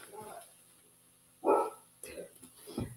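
Barking from dogs in a home craft room, a couple of moderate barks with muffled background noise, fairly close but not loud.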